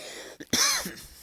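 A single sharp sneeze bursts out after a brief indrawn breath, close and fairly loud, followed by a short trailing exhale.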